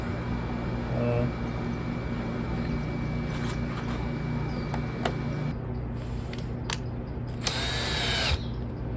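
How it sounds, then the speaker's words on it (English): A power drill drives a screw to fit a sun shade, short whirring bursts against a steady background hum, with a final louder burst of drilling near the end. "So I'm putting one screw in"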